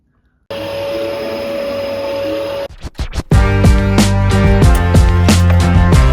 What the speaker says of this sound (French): On a l'aspirateur et du coup, on va mettre un bon coup d'aspi